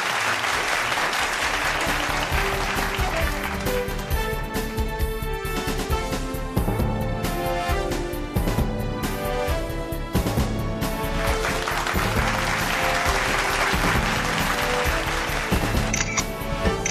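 Studio audience applause on a Philippine radio-TV program, a dense sustained wash of clapping with music running underneath throughout.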